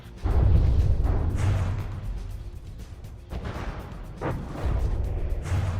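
Warship artillery fire in the naval combat game From the Depths: heavy booms and blasts rumble in a dense, continuous barrage, with several sharper impacts standing out over the din.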